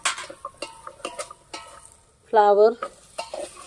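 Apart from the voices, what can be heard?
frying potatoes and cauliflower in a pan for khichdi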